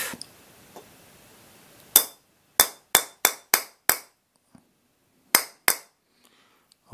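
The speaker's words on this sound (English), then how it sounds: "I'm not going to hit it too hard because I don't want to properly break it" A pane of glass is struck with light, deliberate taps meant to test whether it will break: about eight sharp, ringing knocks in an irregular rhythm, close and loud, with quiet gaps and a few faint ticks between them.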